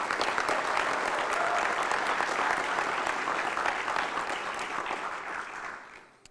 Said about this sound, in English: Can we give all of the award recipients and those who got promoted another round of applause?